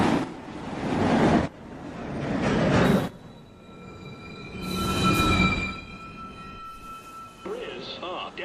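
An uptown local NYC subway 1 train pulls into Chambers Street station with bursts of rumbling wheel noise and sustained high metallic squeal tones, while automated platform announcements play over it.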